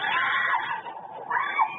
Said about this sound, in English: I just hear him screaming